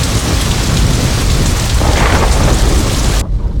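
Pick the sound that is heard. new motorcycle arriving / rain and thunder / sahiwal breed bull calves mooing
rain and thunder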